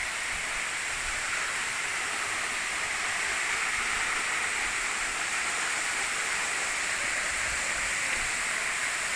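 Jalagamparai falls in Tamil Nadu, a waterfall cascading steadily, giving a constant broad roar of falling water that stays even and unbroken throughout, with no voices.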